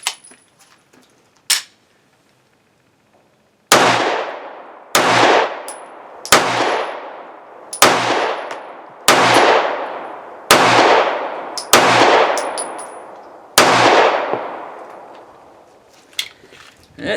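A Walther CCP 9mm pistol, which uses a gas-delayed blowback system, fires eight loud, sharp shots at an uneven pace of roughly one per second. Each report rings out and decays briefly, and no one speaks.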